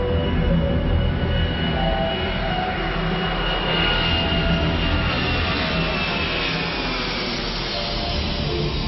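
A United Airlines DC-10 airliner departs Denver in flight, producing a loud, steady, unbroken jet engine roar with broad rumbling noise throughout and no voices.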